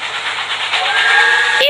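A video game train sounds its steam whistle as it departs: one loud, sustained, hissing whistle blast that holds steady for about a second and a half before cutting off abruptly.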